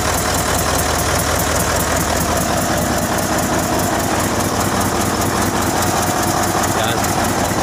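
A Mitsubishi 8DC11 diesel truck engine idles steadily and loudly after a tune-up, a dense continuous rumble with some vibration throughout.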